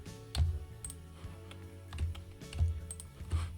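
Computer keyboard keys clicking in a steady run of taps, some harder presses standing out, close and alone over a faint background hum, no talk.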